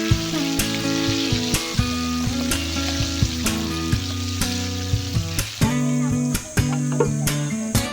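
Chicken feet deep frying in boiling oil, a loud, dense, continuous sizzle and crackle close up, punctuated by regular sharp ticks and pops, with no talking.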